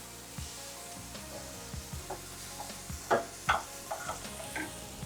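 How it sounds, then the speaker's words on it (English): Baby spinach and basil stirred into sizzling pork and sweet corn in a pan, a soft hiss beneath repeated spatula scrapes and knocks that grow louder and denser midway, nearby and without speech. "Now I'll add the rest of the vegetables, the baby spinach, a little bit of the basil, then mix them"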